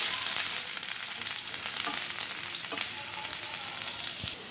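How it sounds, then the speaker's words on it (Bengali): Chopped garlic fries in hot oil, giving a close, steady crackling sizzle with a few faint stirring scrapes, and there is no talk. "তেলটা আমার গরম হয়ে গেছে এর মধ্যে আমি রসুন কুচিগুলো দিয়ে দিচ্ছি"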